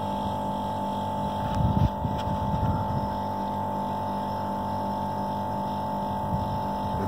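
An air conditioner's motor runs in a steady, droning hum with a constant tonal whine while refrigerant gas is charged without gauges, the unit's piping frosting and thawing; a couple of brief knocks break in near the start.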